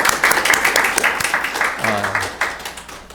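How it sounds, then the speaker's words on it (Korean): A church congregation claps to bless members celebrating October birthdays. Brisk, rhythmic applause fills the room throughout, with a voice speaking briefly over the clapping. "우리 박수로 축복하겠습니다."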